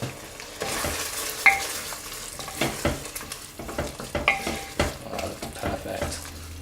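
Red Thai curry paste fries in a pan while being stirred, with a soft steady sizzle broken by scraping strokes and occasional light clinks of the utensil against the pan, heard close up.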